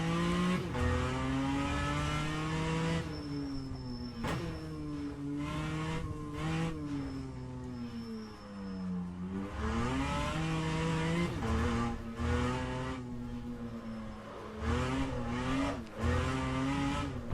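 A race car in Assetto Corsa Competizione running a standard setup revs hard and struggles for traction, its engine note rising and falling through repeated wheelspin and tire squeal, loud and close with no talking.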